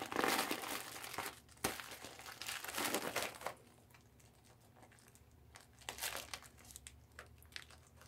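A plastic package bag is ripped open by hand, with loud crinkling and tearing at first, then quieter rustles and a few more crinkly bursts. Nobody speaks.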